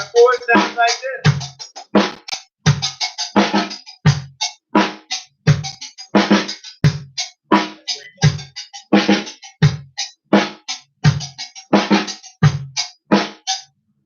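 Close, loud drum kit practice groove with deep kick thumps mixed with snappy brighter strikes in a steady looping pattern over about fourteen seconds, no voices.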